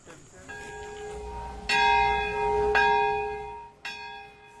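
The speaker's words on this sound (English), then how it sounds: "A bell rings out in Japan's Nagasaki Peace Park today at a solemn ceremony" A large bell strikes three times at a slow pace at a solemn ceremony in Nagasaki Peace Park, Japan, each deep ringing tone lingering and fading into the next, with quiet background hum.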